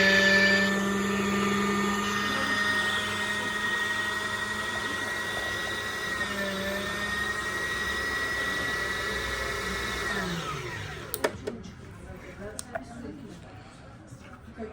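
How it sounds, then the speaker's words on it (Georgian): A Janome MX 1717 sewing machine winding its bobbin gives a steady, high motor whine that runs for about ten seconds, then stops and leaves a few light clicks and handling sounds, with someone speaking in the background. "თუ ჩვენ ამ რგოლს გამოწვევთ მარჯვენა მხარეს, იმუშავებს მხოლოდ დახვევის პროცესი."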